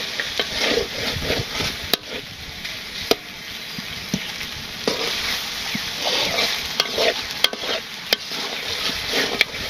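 Meat curry stir-frying in a pot on a village stove gives a steady close sizzle, broken by repeated sharp scrapes and clinks of a spoon against the metal, with no voices.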